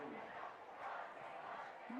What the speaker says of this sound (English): They're still cheering on their team.